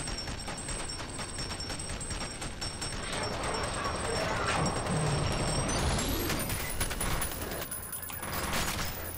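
Rapid, dense bursts of the Thunder Gun in the shooter F.E.A.R. Perseus Mandate fire continuously, loud and close, over a rumbling game soundscape while someone talks.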